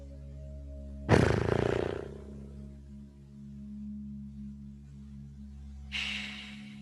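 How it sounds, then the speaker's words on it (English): Deep, controlled breath released fully through the mouth during a restorative yoga practice, one long loud exhale followed later by a second shorter breath over a steady low hum. "allow a few last deep and controlled breaths to release fully through your mouth"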